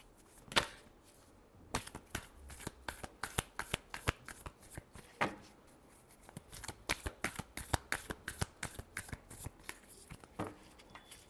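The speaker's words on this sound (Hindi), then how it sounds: "Last shuffle." Tarot cards being shuffled in a long run of crisp riffling bursts and soft slaps, close and fairly quiet, with no voices.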